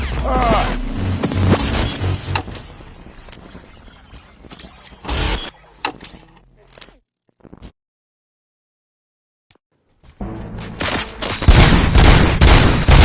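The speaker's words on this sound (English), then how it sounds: "Gunshots? What's going on?" Bursts of gunfire in the video game RoboCop: Rogue City crackle and rattle in rapid volleys, drop to near silence for a few seconds, then return loud and sustained.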